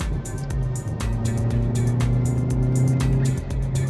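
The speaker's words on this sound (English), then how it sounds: "You might be able to hear the bark coming out of the rear exhaust." Hyundai i30N in N mode, its rear exhaust barking and rumbling up close with loud rhythmic pops and crackles over a steady deep engine hum, no talk.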